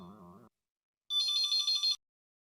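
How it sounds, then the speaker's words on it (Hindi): A telephone rings in a short trilling electronic burst after a brief low tone, loud and close, with no talking. "वो ये मक्खी जानी जी का ही फोन होगा।"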